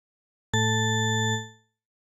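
A single bell preset tone from the Thorn synthesizer plugin strikes once, holding a bright, steady harmonic ring for under a second before fading out cleanly, alone in silence.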